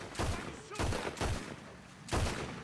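Gunfire in Red Dead Redemption 2 during the Saint Denis chapter: four loud shots spaced unevenly, each with a sharp crack and a short ringing tail against quiet background.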